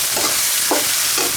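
Scallops stir-fried in a wok, a steady loud sizzle with three scraping stirs of the spatula spaced about half a second apart, close up and without talk.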